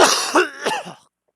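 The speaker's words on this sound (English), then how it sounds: "That's actually me coughing in real life." A person with allergies gives a short burst of three or four harsh coughs, close and loud, then falls silent.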